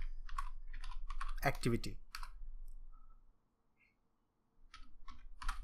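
Rapid clicky keystrokes on a computer keyboard, close and steady, with a voice talking over the typing before it stops briefly and resumes.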